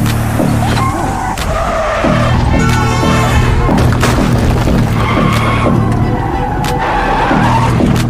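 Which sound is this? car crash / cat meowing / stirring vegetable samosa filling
car crash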